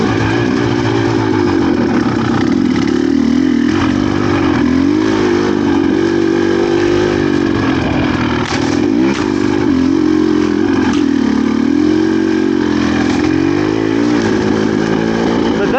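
A GPX TSE300 motorcycle climbs a hill with the clutch feathered, its single engine droning steadily and loudly up close with gentle rises and dips in pitch over wind rush.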